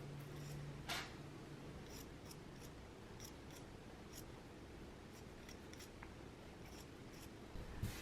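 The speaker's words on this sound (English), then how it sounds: "And trim your seam allowance. I'm trimming mine down to about 1/4 of an inch." Scissors trim a fabric seam allowance on a McCall's M8312 sewing project, with a run of quiet, close snips spaced irregularly over faint room hiss.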